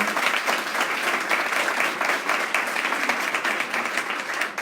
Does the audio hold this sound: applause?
yes